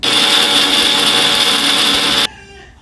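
An electric grinder whirs loudly and steadily as it blends banana, fenugreek and aloe vera into a paste, a dense high-pitched motor roar that stops abruptly near the end, leaving faint quiet behind.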